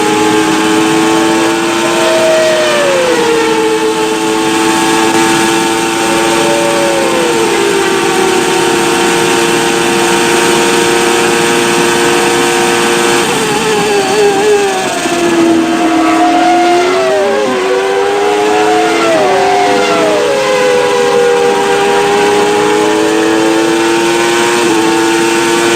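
A 1994 Formula 1 car at the Spanish Grand Prix in Barcelona screams past at high revs, its pitch climbing and then dropping sharply with each rapid gear change, loud and continuous with another engine layered in.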